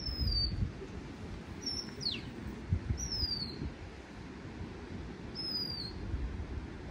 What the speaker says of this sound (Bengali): পাখিটা ডাকছে দেখিস